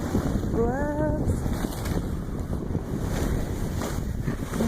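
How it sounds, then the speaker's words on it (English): Strong wind roars and buffets the microphone continuously on a ski slope at Winter Park, Colorado, with a brief whistling tone early on. "It's a little windy, especially chilly on no gloves."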